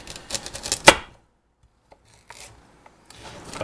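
A knife chops carrots into large pieces on a board, a quick run of close crisp knocks ending in one sharp hit, then quiet with a few scattered taps.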